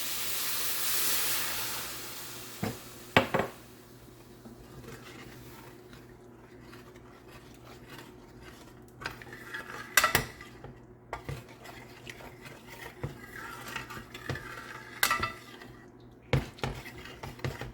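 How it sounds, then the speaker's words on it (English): Bone broth is poured into a hot pan with a rushing hiss at the start, then a spoon clinks and scrapes against the pan as the liquid simmers quietly. "we got 2 cups of bone broth, and I'm going to add that to the pan"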